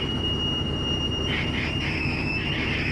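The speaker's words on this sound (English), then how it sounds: "I feel like our washing machine here on the island is a portal to hell." A washing machine on Stewart Island runs with a steady, loud mechanical drone and two high whining tones, joined midway by rhythmic squealing, grinding pulses, with no talk.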